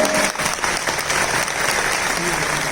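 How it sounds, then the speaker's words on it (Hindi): An audience at a family event bursts into loud, dense applause that runs steadily from start to finish. "तो एक बार फिर उनके लिए जरा जोरदार तालियां हो जाए।"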